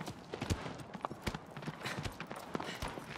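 Horse hooves in the video game Shadow of the Colossus clatter in a quick, uneven rhythm, a steady run of sharp clip-clops at moderate distance with faint background noise.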